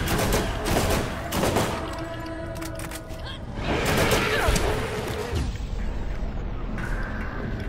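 Heavy gunfire fills a Borderlands battle, with rapid bursts, booming shots and mechanical clatter layered densely over several seconds, while a voice is faintly heard in the mix.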